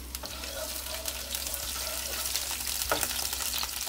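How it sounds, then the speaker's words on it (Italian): Chopped shallot sautéing in extra-virgin olive oil makes a steady, close frying hiss, with a few soft stirring scrapes and a low background hum, no speech. "Ora lasciamo rosolare lo scalogno."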